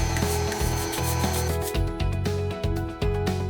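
Stainless steel brush scrubbing a corrugated pipe, making repeated rough back-and-forth rubbing strokes in an even rhythm, close and alone.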